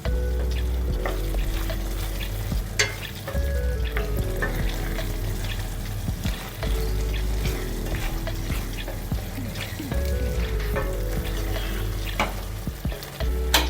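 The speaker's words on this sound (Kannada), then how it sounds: "ಸೊ ಪನ್ನೀರ್ ಹಾಕ್ಕೊಂಡು ಕ್ಲೀನಾಗಿ ಕಲಿಸ್ಕೋಬೇಕು." Paneer fries in a creamy matar masala curry while being stirred, making a loud, continuous sizzle broken by repeated spoon scrapes and clanks against the pan, with no voices.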